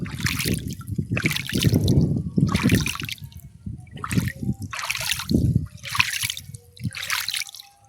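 Cold water splashing and trickling in an outdoor bathing spot, repeated bursts of splashing and dribbling at close range, rising and falling in uneven pulses, with faint voices in the background.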